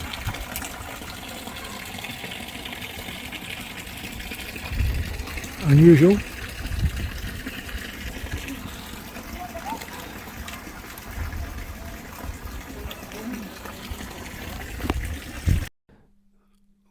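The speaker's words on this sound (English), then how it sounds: "water coming out of a dolphin's mouth" Water spouting from a dolphin-mouth fountain in a Scottish garden makes a steady splashing rush throughout, heard beneath someone talking outdoors.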